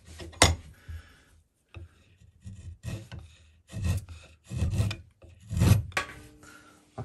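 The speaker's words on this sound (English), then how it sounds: "just with the right method and technique, you can get your chisel sharp" A wood chisel being sharpened by hand, with a series of close, uneven rasping and rubbing strokes, some louder scrapes and quiet gaps between them.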